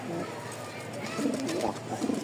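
Long-tailed Lakkha pigeons cooing softly in low, rolling calls, nearby, with someone talking over them.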